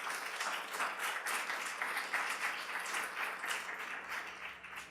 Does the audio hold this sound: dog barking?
no